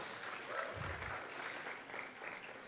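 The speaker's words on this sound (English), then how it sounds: "Can we get a round of applause?" Fairly faint, steady applause from an audience at a youth builders' summit afternoon session, a brief round of clapping following a performance, heard at a distance.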